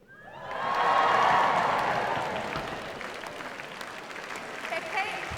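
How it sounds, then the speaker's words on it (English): A large crowd at a university graduation ceremony breaks into a loud swell of cheering and applause that peaks quickly and then tapers to a sustained, softer roar with scattered whoops. "I want everyone else to follow in cheering 3 times"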